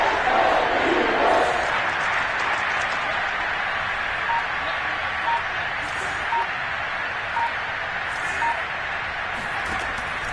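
A stadium crowd roars in a broad, steady wash during a football video game ahead of a big third down, with a commentator's voice woven through the noise.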